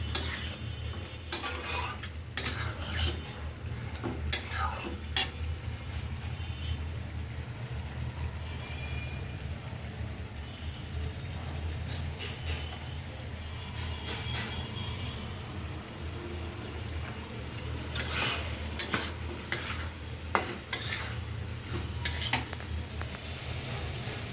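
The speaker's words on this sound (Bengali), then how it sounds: "কফি আলুগুলো কষাইতে দিয়ে দিয়েছিলাম" Potatoes being stir-fried in a pan, a low sizzle beneath bursts of spatula scraping and clatter near the start and again toward the end, fairly quiet and close, no talking.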